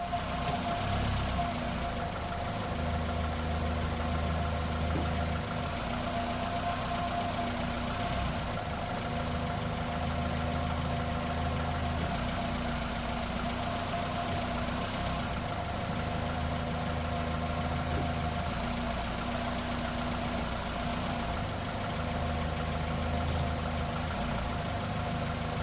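The engine of a 2010 Nissan Rogue with a CVT idles steadily while the transmission is shifted through the gears after a fluid drain and fill, a low, constant hum heard up close with slight vibration and no talk.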